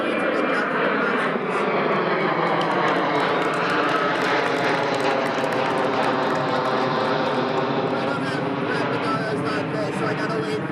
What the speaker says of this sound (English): So I gotta wait for the airplane to go by.